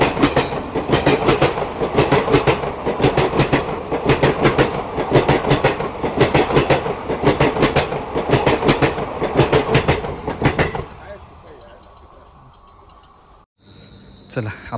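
The Deccan Odyssey luxury train rushes past on the Konkan Railway with loud, rapid rhythmic clatter of wheels over rail joints, then cuts off abruptly, leaving a quieter hum with crickets chirping faintly.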